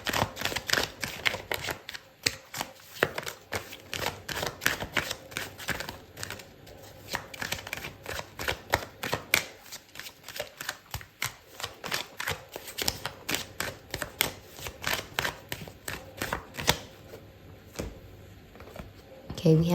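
Tarot cards riffled and shuffled in rapid, dense crackling bursts for about twenty seconds, close and fairly quiet, before a single card is drawn, while a voice talks softly over the shuffling.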